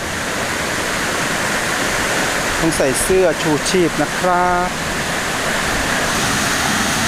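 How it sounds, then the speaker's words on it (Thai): Second tier of the Huai Mae Khamin waterfall after a storm, a loud steady broadband rush of falling water filling the whole clip, with someone speaking briefly in the middle over it. "ตรงนี้ก็เป็นน้ำตกชั้นที่สองแล้วนะครับ ชื่อว่าม่านขมิ้นนะครับ"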